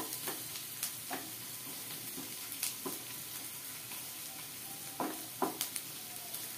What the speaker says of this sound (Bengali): পেঁয়াজটা আমার একদম ভাজা হয়ে গেছে